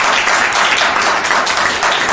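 Steady applause from an audience at a tribute to poet Vivian Shipley, dense clapping sustained throughout without a break.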